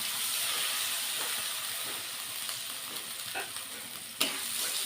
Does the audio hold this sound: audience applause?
no